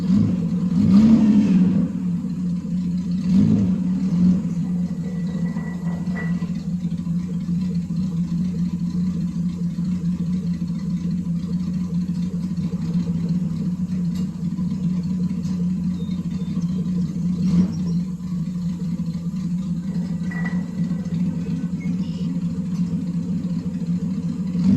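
An old Mercedes that has sat for 13 years runs with a steady low engine rumble, with a few brief revs near the start and mid-way, close up and with no talking.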